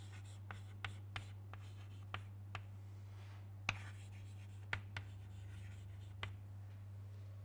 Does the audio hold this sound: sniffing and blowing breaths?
no